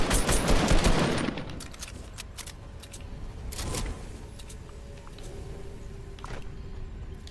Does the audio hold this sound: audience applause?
no